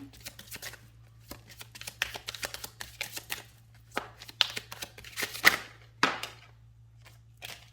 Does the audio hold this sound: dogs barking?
no